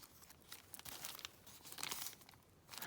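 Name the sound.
paper being folded into an envelope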